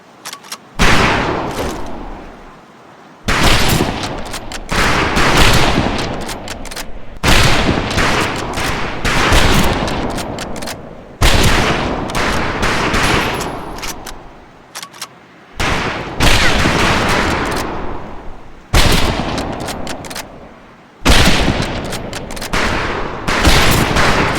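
Rifle volleys on a firing range in the World War II shooter game Medal of Honor: Pacific Assault, loud repeated bursts of gunfire in clusters separated by short pauses, each burst ringing out with echoing tails.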